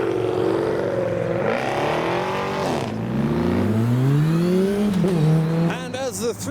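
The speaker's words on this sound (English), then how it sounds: "The 370Z Roadster passes by." A Nissan 370Z Roadster roars past at a busy car meet, its engine note rising and falling through a downshift with a sliding pitch, loud and close, while other traffic and a crowd murmur in the background.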